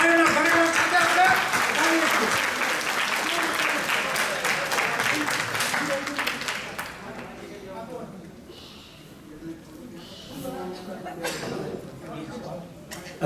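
Dense, steady applause from an audience at a Sardhav family reunion gathering in the USA fills the first half, then fades to a quieter room with scattered murmurs.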